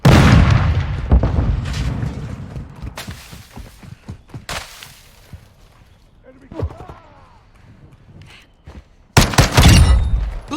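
A frag grenade goes off in a shooter video game, a loud booming blast set among a flurry of sharp gunfire thuds and bangs, with a second heavy burst near the end; voices talk between the shots.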